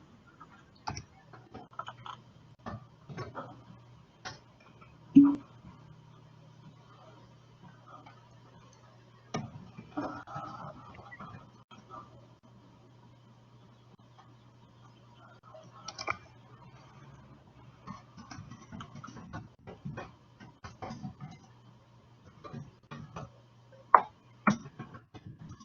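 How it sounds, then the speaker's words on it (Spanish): Sparse keyboard typing comes in short irregular bursts of light clicks, fairly close, separated by quiet gaps, with a low steady hum underneath. "está lento mi teclado porque no escribe rápido para que puedan ver"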